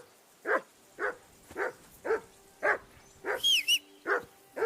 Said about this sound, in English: that barking's driving me nuts. Can you get your dog to shut its beak?